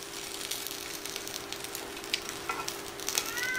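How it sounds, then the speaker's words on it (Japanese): Food grilling on a hot plate gives off a faint, steady sizzle with scattered small pops and crackles throughout, and no one talks. "このホットプレートで焼くっていうのは最強やと思う"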